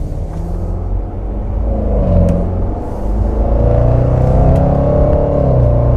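A Mercedes-Benz engine and exhaust heard from inside the car while driving toward a T-junction, a loud, deep rumble that swells as it pulls, with no talking.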